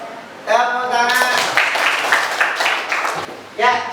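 Classroom applause at a teacher-training session: a burst of clapping from a group of participants rises after a voice speaks and fades before talking resumes at the end.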